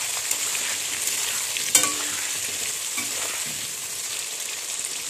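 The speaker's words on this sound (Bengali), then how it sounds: "এটাতে আমি এখন একটু নুন দিয়ে দিচ্ছি আর একটু হলুদ দিয়ে দিচ্ছি, দিয়ে এটাকে ভালো করে লাল লাল করে ভেজে নিচ্ছি।" Jackfruit pieces fry in oil with salt and turmeric, a continuous close sizzle with a sharp clack of a utensil partway and occasional stirring scrapes, no voices.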